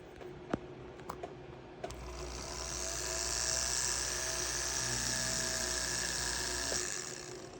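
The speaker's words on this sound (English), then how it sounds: "let's come in here and get us a little starting spot for drilling this out" A small drill runs steadily on a metal necklace plate, cutting a starting hole for a colored stone setting. The whine holds for about five seconds after a few light taps and clicks, close and fairly quiet.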